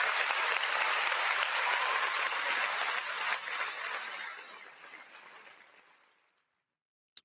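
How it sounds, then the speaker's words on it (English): Loud, sustained applause from a crowd at 49ers training camp for a football player, holding steady for about four seconds before tapering off and fading to silence. "y'all better give that man a round of applause"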